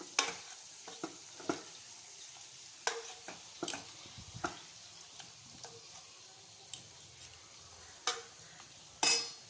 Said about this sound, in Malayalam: അപ്പം നമുക്ക് ഈ സാമ്പാർ കയ്യിലും കൊണ്ട് ഇളക്കി നോക്കാം.